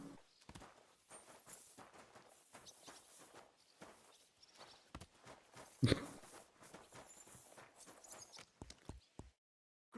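Horse hooves clip-clop at a walking pace in a video game, a steady run of soft near thuds under a background of game ambience before falling silent near the end.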